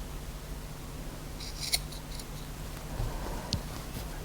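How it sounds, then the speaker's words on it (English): Scissors snip through dress fabric to trim the excess at teardrop-shaped neckline openings on a sewing project, giving a few short, crisp cuts spaced apart against a faint room background. "one last step is to cut the extra here at the teardrops"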